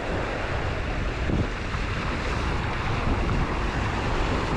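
Waves and surf washing onto a beach, a steady loud roar of water mixed with wind buffeting the microphone, with no voices.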